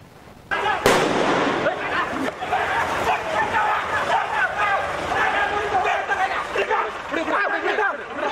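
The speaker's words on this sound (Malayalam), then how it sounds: "പയ്യന്നൂർ പഴയ ബസ് സ്റ്റാൻഡ് പരിസരത്തെ ആളൊഴിഞ്ഞ ഭാഗത്താണ് ഉടനെ ബോംബ് പൊട്ടും പോലെ സ്ഫോടനം നടന്നത്" A bomb-like blast set off during a police mock drill in a deserted corner near the old bus stand in Payyannur, a sharp loud bang followed by a noisy crowd commotion, with people talking throughout.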